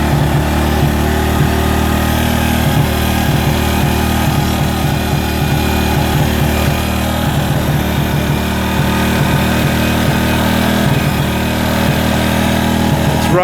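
A Suzuki Quad Runner quad bike engine runs steadily and loud throughout, with an even low throbbing idle and a rapid mechanical putter that never stops, heard close up and alone.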